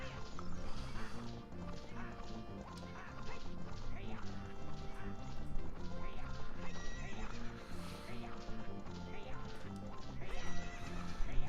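A horse whinnies loudly over busy hoofbeats and game music during a race in The Legend of Zelda: Ocarina of Time 3D, with occasional crashes and thumps throughout.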